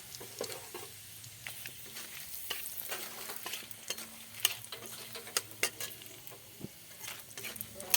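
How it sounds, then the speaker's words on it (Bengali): Whole cumin, dried chilli and bay leaf sizzle in hot oil, a close crackling sizzle with frequent sharp pops and spatters over a steady hiss. "ওই তেলের মধ্যে আমি ফোড়ন দিয়ে দিলাম। ফোড়নগুলো জিরে, শুকনো লঙ্কা, তেজপাতা।"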